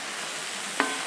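Spoon stirring mushrooms in a hot frying pan while cooking a spaghetti dinner: a steady close sizzle with one brief scrape of the spoon partway through.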